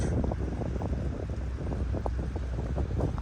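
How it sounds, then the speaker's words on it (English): Steady wind at a beach buffets the microphone in a loud, continuous low rumble lasting the whole short stretch, with no voices. "Hopefully the wind's not too bad."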